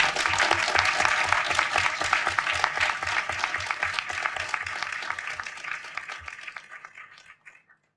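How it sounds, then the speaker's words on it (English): An audience at a public science talk on engineering good bacteria gives a warm round of applause, dense clapping that holds steady for several seconds then thins and fades out by the end. "Give them a huge round of applause."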